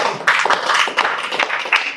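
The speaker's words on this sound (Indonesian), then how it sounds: "Tepuk tangan." An audience at a religious talk claps hands together, a short burst of dense, lively applause heard fairly close and without speech over it.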